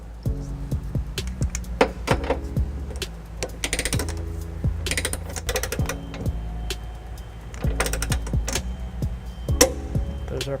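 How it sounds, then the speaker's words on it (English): An 18mm socket on a ratchet clicks in repeated runs while tightening trailer hitch nuts on a 2009 Ford Escape, close metallic pawl ticks with short pauses and occasional knocks between. "We're using a 18mm socket to tighten down all these nuts."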